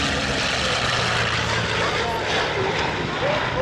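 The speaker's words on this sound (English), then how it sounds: "Here comes Leeward, pushing it down in that sleek P51, and he's going by the riprap." A sleek P-51 Mustang racing plane at pylon height during an air race demo, its engine a loud steady roar sweeping past with a busy crowd around.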